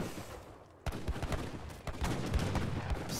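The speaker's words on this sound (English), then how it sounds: "Heavy cannons are so good, man." Heavy cannon bombard fire in a strategy video game battle, a rapid series of booming shots and impacts stacking over each other after a quiet start, loud and dense.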